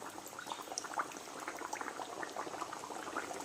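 Matar kachori sizzles as it is lowered into hot oil for deep frying, giving a steady, close bubbling crackle with dense small pops running throughout, with no talk.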